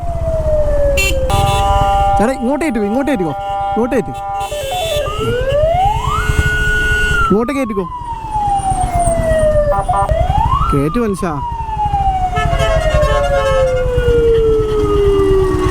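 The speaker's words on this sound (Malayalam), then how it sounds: "ഒരുപാട് ആംബുലൻസ് ഉണ്ടല്ലോ." Several ambulance sirens wail loudly through traffic, their tones sweeping up and down and sliding lower as they pass close by, over steady road and engine noise, with brief shouted talk in between.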